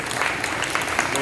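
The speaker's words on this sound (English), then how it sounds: "give her a round of applause" A congregation at a Hebrew summit Sabbath service gives a brief round of applause to a singer about to perform a cappella, the clapping a steady wash with a voice faintly mixed in.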